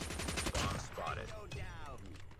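Gunfire in a first-person shooter video game, rapid bursts of automatic shots with sharp impacts and ringing bullet sounds, close and loud, mixed with a player talking over the action.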